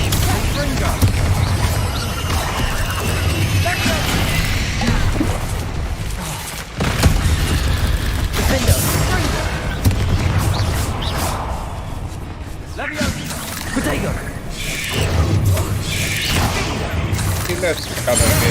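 Fiery Confringo blasting spells go off in Hogwarts Legacy combat, with repeated booming bursts and whooshing impacts over a rumbling battle backdrop, loud and close, while voices talk throughout.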